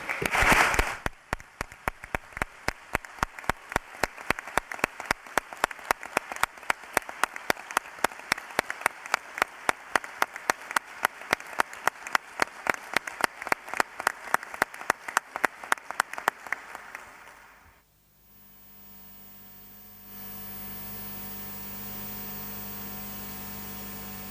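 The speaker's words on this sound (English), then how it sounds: "I will ask you to give them a first round of applause." An audience at the opening of a law school evidence week gives a sustained round of applause, dense clapping lasting about seventeen seconds before stopping abruptly and leaving quiet room hum.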